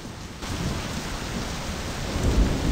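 A Project Zomboid downpour drums loudly and steadily, layered with deep rolling thunder that swells toward the end of the stretch.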